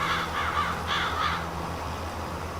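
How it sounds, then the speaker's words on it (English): In Farming Simulator 25 on an early spring morning, a crow gives a quick series of harsh caws, four or five in a row, clear against a low steady background hum. "Oh, there's a bird."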